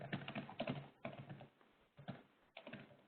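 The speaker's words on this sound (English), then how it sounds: "we can hear somebody typing" Keys on a computer keyboard clatter in uneven bursts with short pauses, faint and somewhat distant, picked up through an open microphone during an online meeting.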